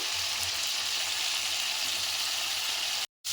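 Whole stuffed brinjals fry in oil in a pan for a masala curry, an even, close sizzle throughout with a momentary cut just before the end.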